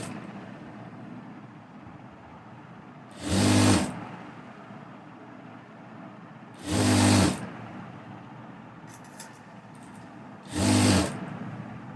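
Sewing machine stitching the edge of a kurta strip, three short loud bursts of a few seconds each, separated by quiet pauses.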